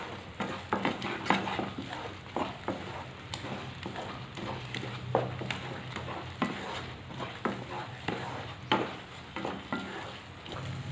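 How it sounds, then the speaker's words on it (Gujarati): Semolina sheera being stirred in a pan with sugar and milk, a spoon scraping in steady repeated strokes over a soft sizzle, close and alone with no talking. "હવે આવી રીતે થોડી વાર તેને હલાવી લેવાનું છે, એટલે આપણી જે ખાંડ અને દૂધ છે તે બંને મિક્સ થઈ જશે"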